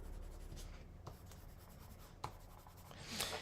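Soft, dry scratching of a watercolor pencil shading a figure's shadow on paper, close and quiet, with a few short strokes and a louder flurry of scribbling near the end; no talking.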